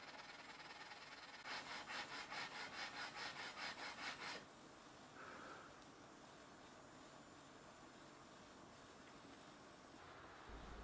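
A walnut guitar body being sanded flush with a leveling beam: a few seconds of rhythmic back-and-forth rasping strokes, then quieter hiss as the work stops, close and fairly faint.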